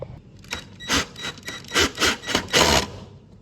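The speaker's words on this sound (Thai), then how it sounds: "เราก็ไขไขควงเข้าไปครับ" A screwdriver drives a screw into a wall mount for a cheap shelf, making a series of rhythmic, close, gritty turning scrapes and squeaks in about seven bursts, with no talking.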